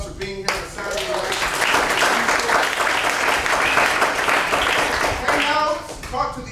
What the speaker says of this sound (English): Round of applause for yourselves for being here on Saturday.